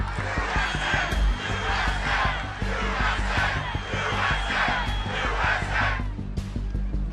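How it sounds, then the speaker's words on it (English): Crowd at an outdoor Trump rally chanting in loud rhythmic unison, repeated shouted phrases pulsing steadily over a dense roar of voices. "The crowd starts to chant."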